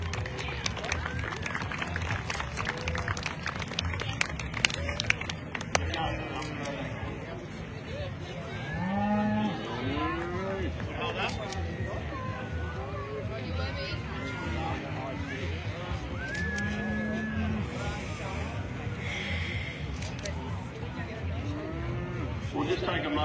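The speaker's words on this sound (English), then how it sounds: "We'll just take a moment while some of these cattle are coming past." Cattle walk past at a country agricultural show, with hooves shuffling and occasional moos under steady crowd chatter and a speaker talking over a public address system.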